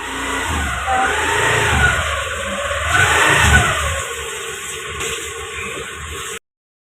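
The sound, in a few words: vehicle engine arriving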